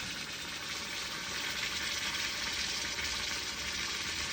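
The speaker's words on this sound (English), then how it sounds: "We can hear it just sizzling down as it cools down." A hot sterling silver casting flask quenched in water, giving off a continuous hissing sizzle that stays steady and fairly loud throughout, with no talking.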